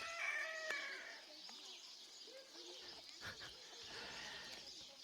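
A rooster crows in the open air on Terceira in the Azores, a moderately distant call near the start amid steady outdoor ambience and scattered bird calls, with no talking.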